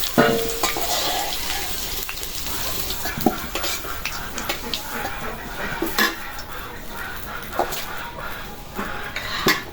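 Sliced new potatoes fry in oil in a pan, a steady close sizzle with repeated scraping and clinking as a utensil stirs them throughout.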